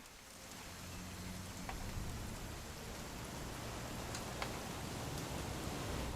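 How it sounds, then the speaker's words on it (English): Steady rain falling outdoors, a continuous even hiss of drops at moderate level with a few faint taps, no voices. "It's am. gonna rain the whole weekend,"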